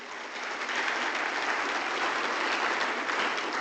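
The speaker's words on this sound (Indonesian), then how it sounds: "Tepuk tangan untuk Tuhan Yesus Kristus" A church congregation applauds during a sermon, an even, moderately distant wash of many hands clapping that rises briefly at the start and then holds steady, with no talk over it.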